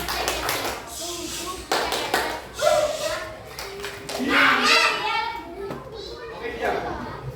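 Fourth-grade schoolchildren in a classroom clap a short rhythmic hand-clapping routine, sharp claps in quick bursts mixed with a teacher and children speaking over and between them.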